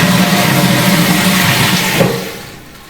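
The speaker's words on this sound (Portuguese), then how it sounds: "Descarga." A toilet flushes as a sound effect in a spoken story: a steady rushing, gurgling roar of water that holds for about two seconds, then drains away and fades out, with no voices over it.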